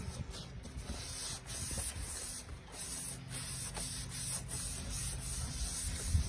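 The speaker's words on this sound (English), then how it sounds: "I do spray those down pretty heavily" Repeated bursts of a spray bottle misting cleaner heavily onto wooden furniture, short hissing pulses at a fairly steady rhythm, close and moderately loud with no talk.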